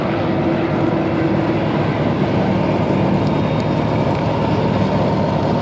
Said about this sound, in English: kestrel being the engine propelling these aircraft